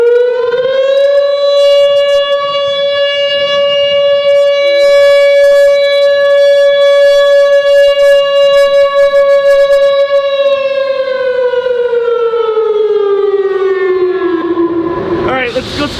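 A Whelen WPS 2906 civil defense siren sounds during a test in Providence, a loud steady wailing tone held for a long stretch before it slowly winds down in pitch near the end.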